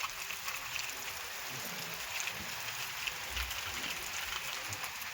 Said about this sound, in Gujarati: વરસાદ અત્યારે જો કે સારો પડે છે